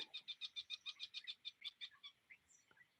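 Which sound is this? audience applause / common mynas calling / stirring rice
common mynas calling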